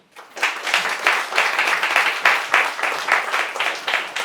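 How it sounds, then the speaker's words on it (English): Applause for speakers at a youth conference, rising quickly from quiet into sustained hearty clapping from a room of attendees, pulsing slightly as it continues. "Please join us in giving a warm round of applause to Natasha Irons MP, Tony Letts OBE"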